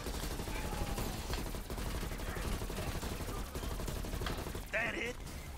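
Gunfire in Call of Duty Cold War's Outbreak zombies mode: dense, rapid shots and bursts run continuously throughout, with game sounds and a voice talking over the shooting.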